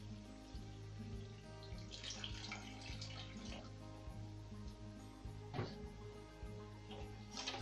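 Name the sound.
water being poured into chicken gravy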